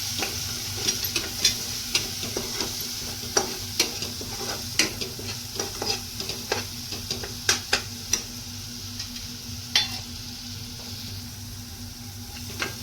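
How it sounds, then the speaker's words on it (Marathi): Red chilli powder, kitchen king masala, turmeric and garam masala sautéing on a low flame in a pan for a cashew curry, a soft steady sizzle broken by repeated sharp taps and scrapes of a stirring spoon, close up. "हे मसाले व्यवस्थित परतून घ्यायचे आहेत"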